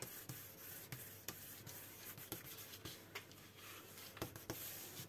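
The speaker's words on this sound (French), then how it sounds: "je continue moi de maroufler de tout partout" Paper is smoothed flat by hand for a scrapbooking project, producing quiet, rhythmic rubbing strokes that sweep repeatedly across the sheet in close, soft brushes.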